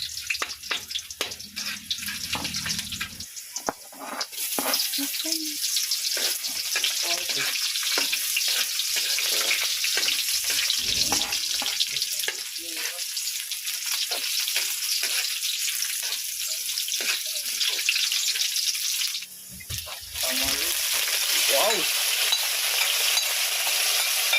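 Garlic frying in a pan, sizzling as a steady broadband hiss for nearly the whole stretch, with stirring scrapes and brief dips, close and fairly loud with no talk over it.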